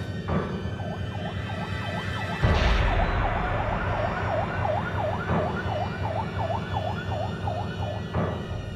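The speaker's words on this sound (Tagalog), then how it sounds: "agad na rin isinakay sa ambulansya si Troy at itinakbo sa ospital." An ambulance siren wails in a steady, repeating rise-and-fall pattern over road traffic noise, loud and continuous throughout.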